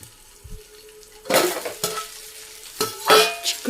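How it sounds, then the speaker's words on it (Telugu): Vegetable curry with broad beans cooking in a pan: a low simmer and sizzle broken by a few bursts of spoon scraping and clinking against the pan, close up with no voices. "ఇప్పుడైతే మగ్గుతుంది"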